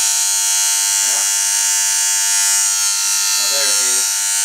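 A hair clipper runs on a 50 Hz transformer with a loud, harsh, constant buzz and a steady high whine. Someone speaks faintly under the noise twice.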